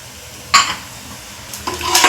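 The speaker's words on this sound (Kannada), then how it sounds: "ಕಡಲೆಬೇಳೆ ಸ್ವಲ್ಪ ಫ್ರೈ ಆದಮೇಲೆ ಮೆಂತ್ಯಕಾಳು ತೊಗೊಂಡಿದ್ದೀವಲ್ಲ ಒಂದು ಅರ್ಧ ಸ್ಪೂನಷ್ಟು ಕಾಳು ಹಾಕ್ತದನಿ" Chana dal and fenugreek seeds frying in a pan for North Karnataka-style red chutney: a couple of bright sizzling bursts with stirring scrapes, close and fairly loud, no talking.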